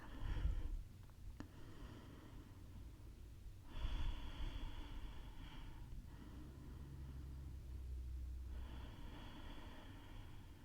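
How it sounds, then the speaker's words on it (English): Slow, steady breathing during a bedtime yoga stretch, with soft airy inhales and exhales in long spaced phases over a low background rumble, faint and close. "Wherever you are, continue to breathe."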